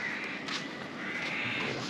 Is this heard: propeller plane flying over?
no